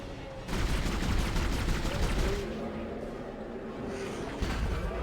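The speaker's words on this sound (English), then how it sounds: "now we have to shoot it in the wiggly chest" Gunfire from the sci-fi horror game Dead Space, a dense run of sharp shots and rattling bursts that stays loud throughout, with a voice talking over the action.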